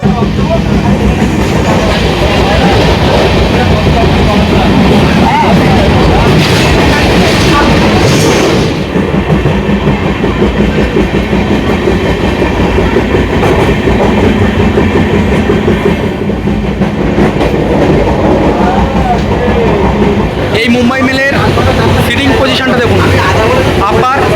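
A Mumbai Mail train from Kolkata rumbles steadily along the tracks with rhythmic clatter, loud and close from inside a carriage, while voices talk over the noise.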